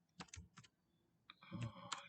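Computer keyboard typing while code is written: a few quick bursts of key clicks up close, a short pause, then a busier run of keystrokes with a faint tonal hum behind them.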